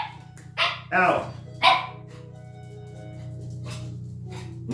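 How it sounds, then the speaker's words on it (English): A dog barks indoors in a few sharp, close bursts near the start, while someone speaks over it. "You're gonna come in here and start barking."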